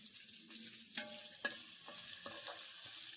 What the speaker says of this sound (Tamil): நல்லா கொஞ்சம் வதக்கி விடலாம்.